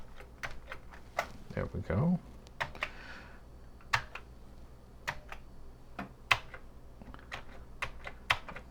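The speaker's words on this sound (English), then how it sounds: "Keyboard isn't terribly responsive, but again, it's a 40-year-old keyboard." Keys clack on a 40-year-old Commodore 64 breadbin keyboard, sparse irregular taps spread across the stretch, fairly close, with a brief spoken remark early on.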